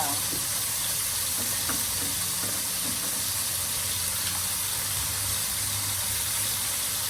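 Sliced bitter gourd (ampalaya) sizzles and sautés in a hot pan, a steady close frying hiss with occasional stirring scrapes and clicks, continuing evenly throughout.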